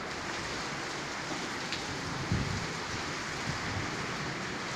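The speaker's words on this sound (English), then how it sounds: "this is a tropical storm here in Progreso, Yucatan. The rain and lightning," Heavy tropical storm rain in Progreso, Yucatan, a dense, steady wash of downpour pattering on surfaces, with a faint low rumble partway through and no voices.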